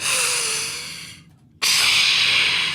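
A voice imitates the snorting desert air intake of a Ford truck: a long breathy inhaled snort, a brief pause, then a loud rushing exhale.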